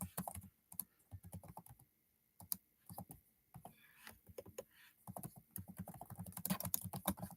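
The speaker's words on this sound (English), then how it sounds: "I'm just trying to type this away." Steady bursts of keystrokes on a computer keyboard, close and fairly loud, with a short pause mid-way before the clatter resumes faster and denser toward the end; no talking.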